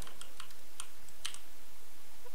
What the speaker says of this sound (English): I'm gonna type in gorilla player.